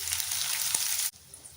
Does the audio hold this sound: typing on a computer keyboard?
no